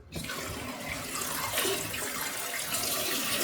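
Water rushes steadily and loudly through an opened toilet fill valve, a constant close hiss of flow starting abruptly and continuing without pause, no voices.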